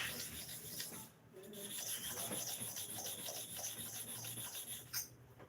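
A Starex clipper blade is rubbed against a sharpening surface, a steady close rasping scrape that continues without pause and with no talk.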